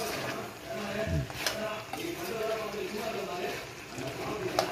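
Chicken gravy stirred in a pan, soft scraping and gentle bubbling close by under low background noise, with a brief clink of a utensil.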